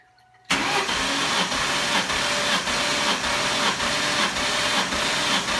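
A 2003 Cobra engine cranks with all spark plugs removed during a compression test, a steady rhythmic whirring churn that starts abruptly and runs loud and unbroken.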